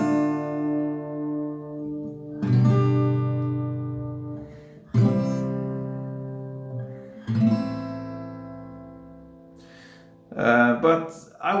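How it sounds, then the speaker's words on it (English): An acoustic guitar plays a song's verse with a single downstroke on each chord: four strums spaced about two and a half seconds apart, each left ringing to fade, and a brief voice comes in at the end. "it would really be played just with one downstroke for every chord"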